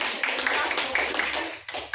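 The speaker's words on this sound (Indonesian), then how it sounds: "Tepuk tangan dulu untuk Bapak" Audience clapping for a participant at a school positive-discipline dissemination session, a sustained patter of many hands filling the room, with voices mixed in.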